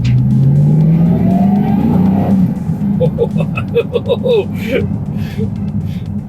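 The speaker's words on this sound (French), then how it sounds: "Un moteur V8 avec un compresseur, là." A supercharged Dodge Viper V8 engine fitted in a pickup revs up with a rising whine, then settles into a lumpy idle with bursts of throttle; people talk over it.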